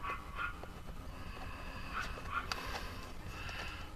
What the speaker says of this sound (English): That dog cannot shut the fuck up.